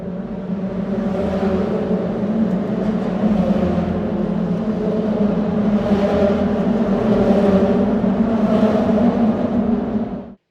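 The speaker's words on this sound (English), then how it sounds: "The bridge is also known as the Singing Bridge for the distinctive sound that the cars make as they travel across the" Cars cross the steel plate roadbed of the Singing Bridge in Cincinnati, giving a loud, steady tonal hum and tire drone that holds for about ten seconds with no talk.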